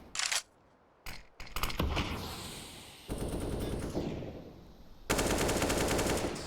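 Automatic rifle sprays in Counter-Strike on the Nuke map, repeated rapid bursts of AK and AUG fire from several players, loud and close with short gaps between volleys.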